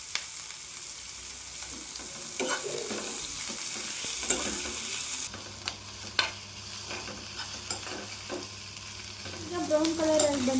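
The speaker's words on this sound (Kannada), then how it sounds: "ಹಾಗೆ ಸ್ವಲ್ಪ ಬ್ರೌನ್ ಆಗೋವರೆಗೆ ಫ್ರೈ ಮಾಡ್ಕೋಬೇಕು ಚೆನ್ನಾಗಿ." Chilli and curry leaves fry in hot oil for a liver fry, giving a steady close sizzle with occasional stirring clatters and a sharper crackle as more goes into the pan, with no talking.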